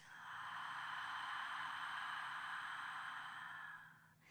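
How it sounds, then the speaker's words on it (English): A single long, steady exhale out through the mouth during a beginner Pilates breathing exercise, soft and close, fading at the end. "Long breath out through your mouth."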